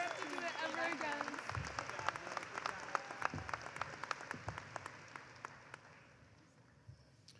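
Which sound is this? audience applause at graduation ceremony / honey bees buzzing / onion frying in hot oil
audience applause at graduation ceremony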